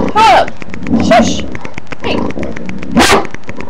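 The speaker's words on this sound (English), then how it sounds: "All he does is bark." A pet dog barks indoors in a few loud, sharp bursts separated by pauses, with someone talking between the barks.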